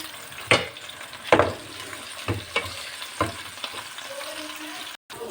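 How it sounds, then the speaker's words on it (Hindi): Eggplant and spices frying in a pan as a spoon stirs them, giving a low sizzle broken by several sharp scraping strokes, fairly close and with no voice. "और साथ ही हम इसके अंदर डाल देते हैं मसाले, और ऐसे हम 1 से 2 मिनट भून लेते हैं।"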